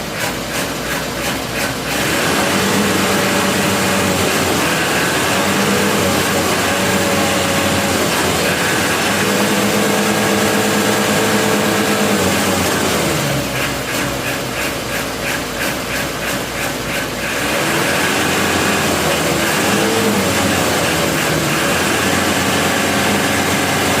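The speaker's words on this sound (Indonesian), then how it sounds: "Mesin ini nanti akan jadi lumayan halus nanti guys" A Mitsubishi L300 engine that is hard to start when hot and stalls on inclines idles with a loud mechanical clatter, revving up twice in distinct bursts of rising, rattling roar before settling back down.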